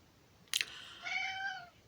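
After a sharp click, a cat lets out one drawn-out meow that rises and falls, close and clear with no talking.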